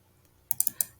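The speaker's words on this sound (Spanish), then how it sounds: "Damos doble clic para poder saber sus características." Mouse double click on a computer while working in the Workbench platform: a few sharp, close clicks in quick succession, loud against a quiet background.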